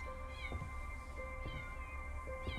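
Kittens give several high, thin meows and squeaks, repeating at short intervals over a steady low background hum.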